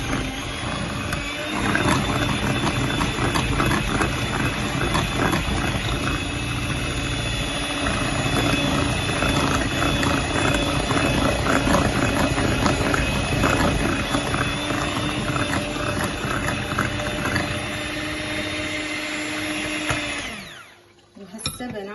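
An electric mixer whisks sugar, oil and milk for an orange cake batter, a loud, steady whining motor drone with rattling texture that runs without a break for about twenty seconds before it stops abruptly near the end.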